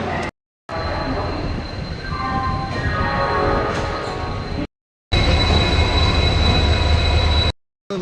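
A train rumbles steadily on the platform at Howrah station, near and loud, with a crowd murmuring and people talking over it. The rumble cuts out briefly twice.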